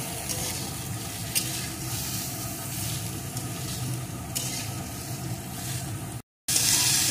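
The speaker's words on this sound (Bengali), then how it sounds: "এখন बीटটাকে আমি 2-3 মিনিট একটু ভেজে নেব" Sliced beetroot fries in a small amount of oil in a pan, giving a continuous close sizzle and hiss, with occasional scraping stirs and a brief cut-out near the end.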